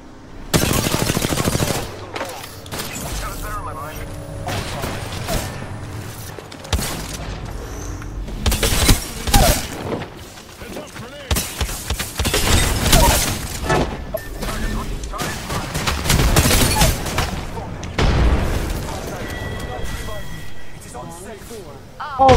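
Shotgun fire in a video game set in a valley, with repeated loud blasts and bursts of gunfire scattered through the stretch, heard under excited talk from players.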